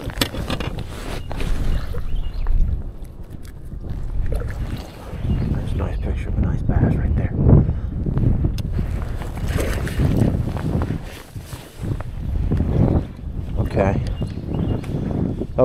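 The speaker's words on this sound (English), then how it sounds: "Damn wind's blowing so bad, dude." Strong wind buffets a bass fishing boat on Lake Fork, roaring in loud gusty surges that rise and fall throughout.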